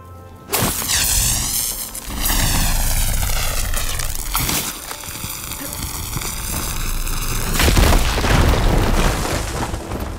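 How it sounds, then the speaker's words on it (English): A fire gleam bursts in Horizon Forbidden West: a loud, booming explosion with a roaring, whooshing rush that swells and sustains for several seconds, followed by further rumbling blasts, with no talk over it. "Should be able to blow up that fire gleam."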